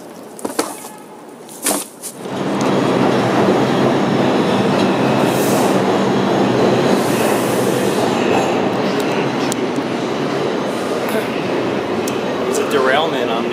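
A subway train pulls into a platform with a loud, sustained roar of wheels and cars, briefly squealing, after a few quieter clanks, close and dominating throughout.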